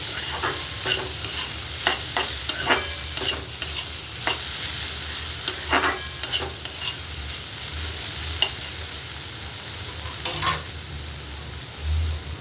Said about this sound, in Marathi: आता ही भेंडी भाजलेली टाकून घेऊया. एक जीव करूया.